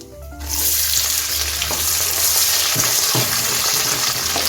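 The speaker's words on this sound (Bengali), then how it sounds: "এখন আমি আগে থেকে কেটে রাখা পেঁয়াজটা দিয়ে দিচ্ছি" Chopped onion dropped into hot oil with bay leaves breaks into a loud, steady sizzle that holds for several seconds, with a few stirring scrapes over it.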